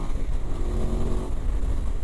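A heavy adventure motorcycle engine drones steadily and loudly while riding on a trail, a constant low rumble with no talking.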